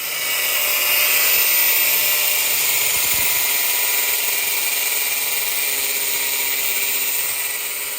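A high-pitched power tool grinds steadily against very hard steel, a loud continuous abrasive whine with a bright hiss that holds without pause, heard up close with no talking.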